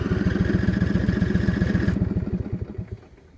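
A John Deere LA105 lawn tractor engine runs rough under throttle, with a fast, uneven, loud chugging that stumbles and fades toward the end, close to the listener.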